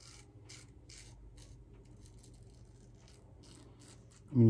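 Soft, rhythmic scraping strokes of a Merkur safety razor blade across stubble, close and quiet, repeated about a dozen times before a louder sound cuts in at the end.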